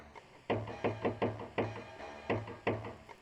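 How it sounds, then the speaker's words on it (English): A secret knock on a motel door in the video game Jazzpunk: seven crisp raps in an uneven pattern, close and distinct, with no talking. "Knock on the door using the secret knock"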